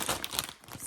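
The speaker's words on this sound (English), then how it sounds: "Sorry about the crinkling." Plastic yarn bag crinkles and rustles in close, busy bursts as mini skeins are pulled out of it.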